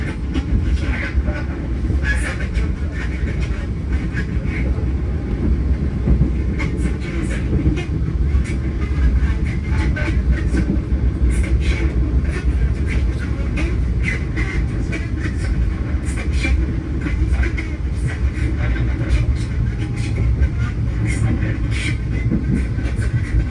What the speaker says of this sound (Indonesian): Ini keretanya bisa lari 120 km per jam.